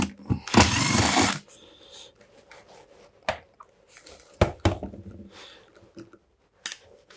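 A power screwdriver whirs in one loud burst of about a second while removing screws from a Makita DVC260 backpack vacuum, followed by quieter clicks and handling knocks.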